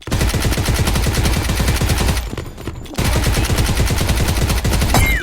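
Dense, rapid gunfire from enemies in the Mini World Royale video game, loud and continuous bursts with a brief lull midway before the shooting resumes.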